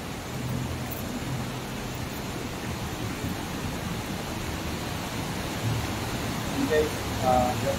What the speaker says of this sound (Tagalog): ingay ng tubig at saka sa mga ibon